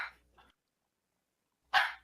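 A dog gives a couple of short, sharp barks, one soft at the start and a louder one near the end, separated by silence.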